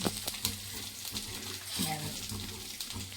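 Cumin and pepper roast in a pan for a brinjal kuzhambu with a soft, steady crackle and sizzle, broken by light stirring scrapes and taps.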